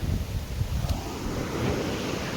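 Sea waves wash and splash steadily against the shore at Porbandar, with a constant roar and gusty wind buffeting the microphone.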